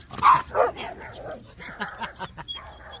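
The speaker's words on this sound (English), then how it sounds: "here comes a little dog. So there we go, little killer dog. Come and check out my golden doodle" A small golden doodle lets out a few sharp yaps and yips close by, with bursts clustered early and softer whimpery calls following, over faint background noise.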